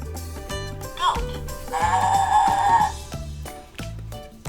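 Goat bleating on a farm, a wavering mid-pitched call of about a second standing out clearly over a steady musical background with rhythmic low notes.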